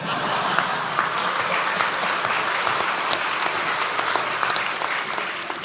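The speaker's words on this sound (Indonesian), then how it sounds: "Tolong kalau tepuk tangan jangan ragu-ragu ya." Audience applause at a speech by a former Indonesian president: dense, steady clapping from a large crowd fills the whole stretch at an even level, with no talk over it.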